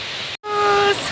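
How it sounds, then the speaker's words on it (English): A village waterfall roars as a steady broad rush, cut by a brief dropout, with a faint tonal whistle over the water. "Oh, look at this waterfall"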